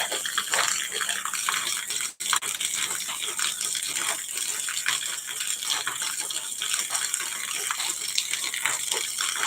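Rainwater flows and gushes steadily after a heavy downpour, a continuous broad rushing wash with a brief dip in the middle.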